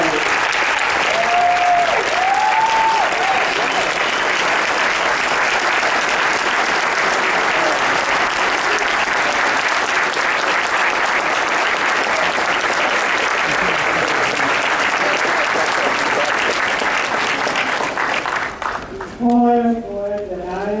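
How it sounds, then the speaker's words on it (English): Sustained, dense applause from a convention audience at a Last Dragon cast anniversary Q&A, loud and continuous for about twenty seconds with a few cheers and whoops rising over it, tapering off at the end as a voice begins speaking. "Everybody go around and applause for Gary."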